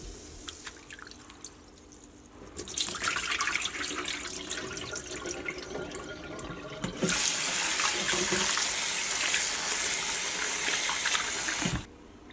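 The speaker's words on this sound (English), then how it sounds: "Rinse chicken hearts under running water for few times." Raw chicken hearts are rinsed in a bowl under a running kitchen tap: water gushes and splashes steadily, then the flow grows louder and brighter midway before stopping abruptly.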